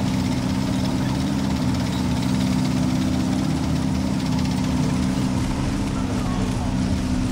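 Vehicle engine in the Men of War Assault Squad 2 strategy game on a town map, a steady low rumbling drone held at constant level throughout, with faint talk beneath.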